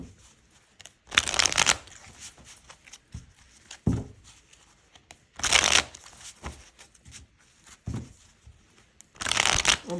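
A PipSpeak Tarot card deck being shuffled close up in repeated short riffling bursts separated by quiet pauses, with brief soft handling noises between the bursts.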